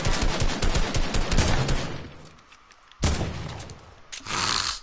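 Rapid automatic gunfire from a video game shooting at an opponent, a loud close burst of dense shots that fades out, followed by another short volley and a sharp whoosh.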